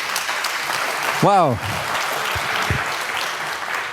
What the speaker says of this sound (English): All right, a big applause, please.